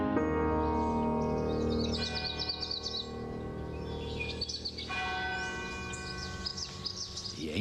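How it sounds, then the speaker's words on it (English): Church bells in Rome ring out in the morning in a resonant, sustained peal, with small birds chirping and twittering faintly over the ringing. "The ancient city of Rome wakes up in the morning to church bells"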